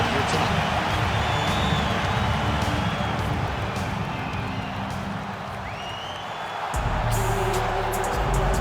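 Inside a capacity arena in EA Sports UFC 5, for Islam Makhachev versus Jorge Masvidal, the crowd keeps up a loud continuous roar, easing briefly and then surging back near the end.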